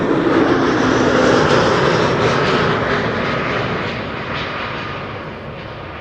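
A Lufthansa airliner arriving at Amsterdam Schiphol passes close with a loud, full engine roar that peaks early and then slowly fades as it moves away, with no voices.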